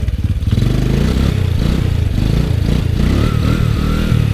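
An ATV engine revs hard under held throttle while doing sit-down wheelies. It gives a loud, close, rough mechanical drone that pulses unevenly, with no speech over it.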